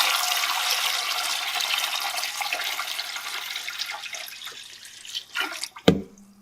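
Water pours into a canner, a loud steady gush that tapers off into a few drips and clinks near the end, with no talk.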